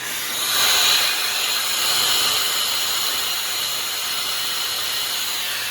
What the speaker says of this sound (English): don't you just love raw steam? This is low pressure steam.